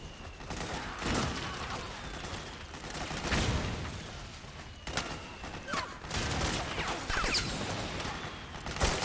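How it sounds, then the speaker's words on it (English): Enemy PMC soldiers fire at the player in Metal Gear Solid 4: bursts of gunfire crack out repeatedly over several seconds, mixed with rattling action sounds at moderate loudness. "Who is shooting at me?"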